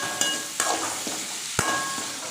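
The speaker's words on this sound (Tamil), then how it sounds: "நல்லா எண்ணெயிலே வறுக்கட்டும். இப்போ உருளைக்கிழங்கு போட்டு" Potatoes fry in oil with chicken masala, giving a soft sizzle under three sharp scraping stirs of a spatula against the pan.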